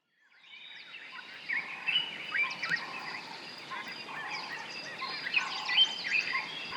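Several birds call and chirp at first light in Kruger National Park's Pafuri area, overlapping high calls at moderate distance over a quiet, steady bush background.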